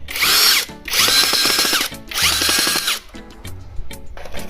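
A power drill drives a screw for an E27 lamp fitting, with three loud whirring bursts of about a second each separated by short pauses, then quieter rattling handling sounds close to the microphone.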